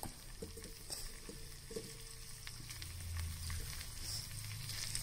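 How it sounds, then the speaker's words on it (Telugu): Cut pieces of Gujarati dhokla sizzle and crackle in a hot oil tempering, with a few light clinks and stirring sounds, close and fairly quiet. "ఇప్పుడు పోపులోకి మనం కట్ చేసుకున్న డోక్లాని పెట్టేసుకోవాలి"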